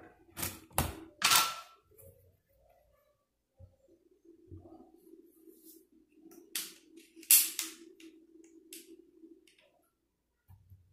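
A Nitro x mil Artemis PCP air rifle fires several sharp, close cracks in two clusters, separated by quieter stretches with a faint steady hum.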